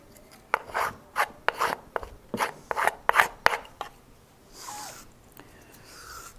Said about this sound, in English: When that happens, you've got to do a little bit of scraping.